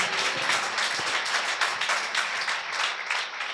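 A church congregation at a Sunday worship service claps hard together, a dense, loud, continuous patter of many hands that runs on without pause.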